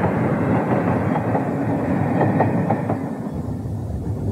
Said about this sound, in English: The royal train is on its way north.